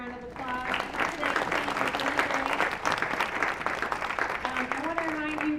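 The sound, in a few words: audience applause for speakers and panelists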